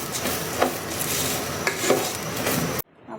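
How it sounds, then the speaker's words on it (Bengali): Rice being fried and stirred in a pot for hilsa polao, a continuous scraping and rustling with a few sharper utensil knocks against the pot, close and alone, ending abruptly. "আমি চালগুলোকে প্রায় 2-3 মিনিট মতন ভেজে নিব।"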